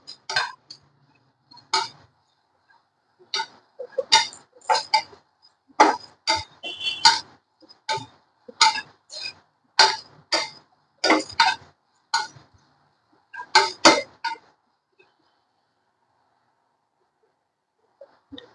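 Cloves and cardamom dry-roasting in a pan: a close run of light rattling clicks and ticks as the whole spices are stirred and tossed, then quiet at the end.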